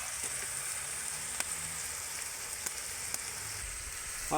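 Onion, tomato and green chili sautéing in a pan, a steady moderate sizzle with faint scattered ticks and a short scraping stir toward the end.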